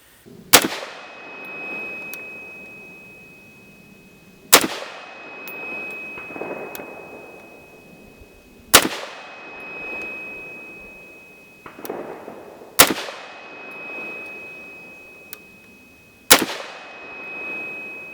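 An MKE AP53 roller-delayed rifle in 5.56 fires five single shots about four seconds apart. Each crack is loud and sharp, followed by a long, fading echo.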